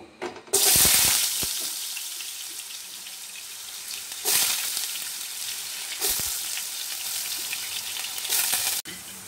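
Chopped potatoes fry in hot oil in a pan for aloo methi sabzi, a loud, close sizzle that swells in repeated bursts as they are stirred, with brief quieter gaps between.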